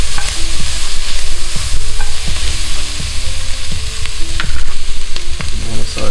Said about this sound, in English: I'm going to saute that for just a second. Let that garlic wake up.